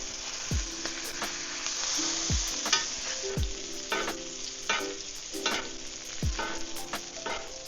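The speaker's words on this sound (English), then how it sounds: "Now sear the lamb for 2 minutes on each side." An herb-crusted rack of lamb sears in a pan with butter, a steady close sizzle broken by several sharp clunks as the meat is set down and turned, with no talk.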